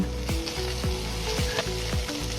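Potatoes and drumstick pieces frying in oil in a pan, a constant close sizzle with regular scraping strokes as they are stirred about every half second.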